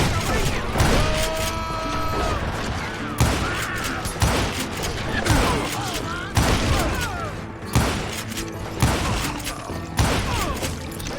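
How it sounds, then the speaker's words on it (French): Gunfight crossfire in Call of Juarez: Gunslinger, with repeated sharp, loud gunshots and thumps at irregular intervals over a busy background, some shots in quick bursts. "They're catching us in a crossfire, shouted Billy."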